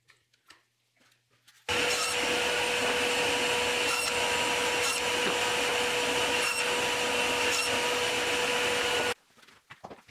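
A power saw cross-cuts wood pieces to length for a Danish modern style crib, a steady loud whine running unbroken for about seven seconds with faint rhythmic variations, no talking.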